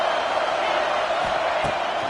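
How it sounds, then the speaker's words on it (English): Raucous football stadium crowd in Texas roaring steadily as fans urge their defense to hold in the red zone, a dense, continuous wall of cheering from start to end. "this crowd imploring its defense to stand firm"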